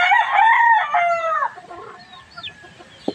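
Young chickens squabbling at close range, with a burst of loud squawking and crowing-like cries that fades into scattered softer clucks and a sharp final squawk.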